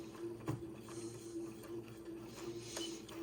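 A sewing machine stitches back and forth to tack a waistband, a soft, steady mechanical whir and rattle heard up close, with no speech.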